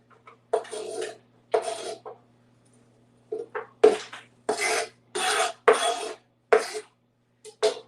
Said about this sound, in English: Just use the food chopper and you'll feel better.